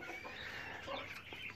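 Several Ameraucana chicks, about two and a half months old, cluck and cheep softly at close range in a brief, busy burst.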